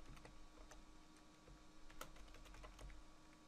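Someone types on a computer keyboard with a quick, irregular run of soft clicks and taps. A few louder keystrokes stand out. The sound is close and faint, and no talking is heard.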